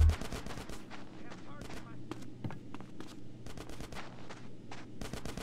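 Repeated bursts of automatic gunfire from the video game GTA San Andreas, with rapid cracks in uneven clusters over a low background hum and some talk in between.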